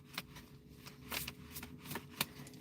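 A deck of playing cards is shuffled for a card reading, making a few quick, soft riffling flutters that are quiet and close, with no speech.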